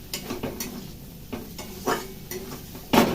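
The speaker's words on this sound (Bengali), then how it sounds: "মশলাটা কষিয়ে নিই, কষিয়ে নিয়ে এই মটর সিদ্ধগুলো দিয়ে দেবো" Masala for ghugni stir-fried in a pan, with a spatula scraping and knocking the pan at irregular intervals over a soft sizzle, nearby and without speech.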